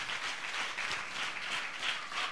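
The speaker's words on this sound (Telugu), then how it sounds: "చప్పట్లు కొట్టి దేవుని స్తుతిద్దాం" A church congregation at a Sunday service claps together to praise God, a dense, moderately faint wash of many hands with a slight rhythmic swell, heard from a distance without talk.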